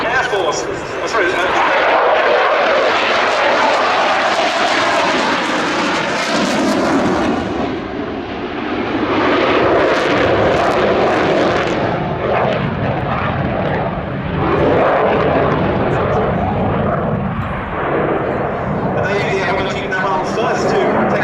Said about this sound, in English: Marty brings the Rafale C in for a touch and go